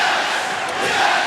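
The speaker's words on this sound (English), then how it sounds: "this crowd, packed house, enjoying the hell out of this one" A packed arena crowd roars at a wrestling match, a loud, continuous wall of cheering and shouting that stays dense and unbroken throughout, with no single voice standing out.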